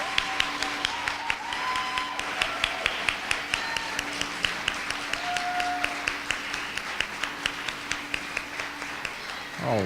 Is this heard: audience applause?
yes